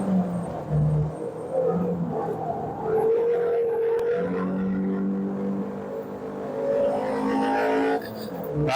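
A Mini Cup race car drives on the Kirkistown circuit, its engine droning and rising in pitch through revs and gear changes, heard from inside the car, loud and steady throughout.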